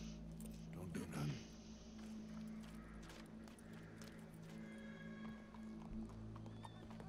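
A horse in the video game Red Dead Redemption snorts and whinnies early on, followed by hoof clops and faint ambient bustle, with low voices and background sounds running throughout.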